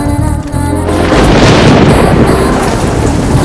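Heavy rain pours in a steady loud roar after a rumbling thunder-like boom, close and continuous over a film scene.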